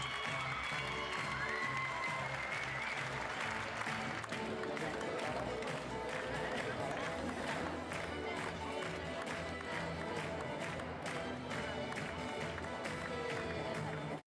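A crowd at a regional beauty pageant applauds and cheers the newly crowned Miss, continuous dense clapping mixed with chatter and music for the whole stretch.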